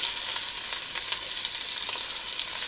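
Onions and curry leaves frying in a couple of spoons of oil, a steady bright hiss and crackle that stays loud and even throughout, with no voices.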